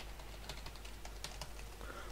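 Quick, fairly quiet typing on a backlit computer keyboard found at a flea market, irregular light key clicks tapping out over a steady low background hum, no voices.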